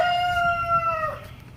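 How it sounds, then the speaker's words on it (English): Backyard chickens in a garden, a rooster crowing once with a long sustained call that drops off at the end, followed by a few faint clucks in the background. "You can hear our chickens back there."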